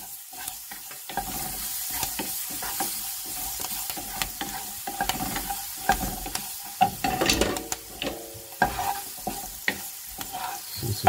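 Green chillies tossed into spiced masala in a hot pan for Jodhpur onion kachori sticks, giving a steady sizzle and frying hiss with repeated scraping stirs, close and fairly loud, busiest around the middle, with no talking.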